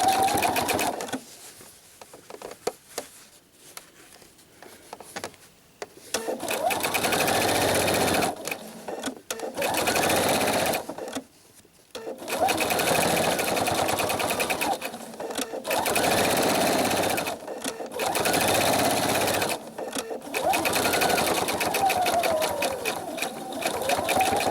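A sewing machine stitches a quarter-inch seam on a pillow in loud, steady bursts of rapid whirring, separated by short pauses and quieter stretches, heard close up.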